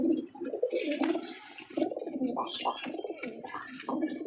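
A male pigeon coos repeatedly in low, throaty, rolling phrases, close by and fairly loud, with short pauses between bursts and no talking over it.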